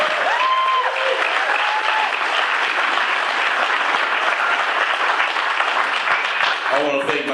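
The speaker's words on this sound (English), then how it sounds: "I want to applaud the convention committee for the wonderful job that they did this weekend." An audience applauds the convention committee with steady, full clapping, while a few whistles or cheers rise early on and a voice starts speaking near the end.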